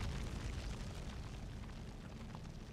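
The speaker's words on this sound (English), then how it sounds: "Why is there fire chasing me?" Fire chasing the player in the video game Braid makes a dense, continuous roaring rumble with crackling texture that stays loud and steady throughout.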